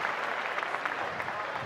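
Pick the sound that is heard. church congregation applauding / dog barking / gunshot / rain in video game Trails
church congregation applauding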